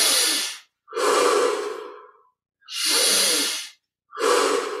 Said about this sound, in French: On prend ces 20 respirations profondes. Inspire par le nez. Expire par la bouche.